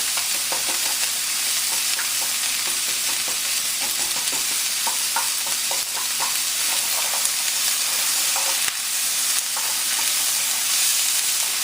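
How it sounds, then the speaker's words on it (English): Steady sizzling of a beef and carrot stir fry frying in a pan, with occasional stirring clinks and scrapes over the continuous hiss. "while that's frying up"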